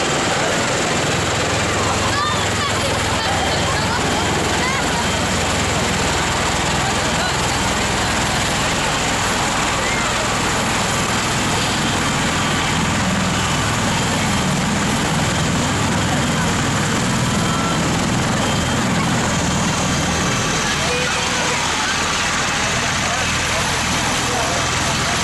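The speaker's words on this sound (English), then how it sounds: "Witness the spectacular landing of a true giant, the US military's V-22 Osprey." A US military V-22 Osprey tiltrotor lands, its loud, dense rotor and engine roar filling the whole stretch without a break and washing steadily over everything.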